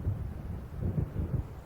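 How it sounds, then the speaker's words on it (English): Low, rolling thunder rumbles from an approaching storm in the Alan Wake video game, a faint, muffled swell heard without speech. "It seems there's a storm coming."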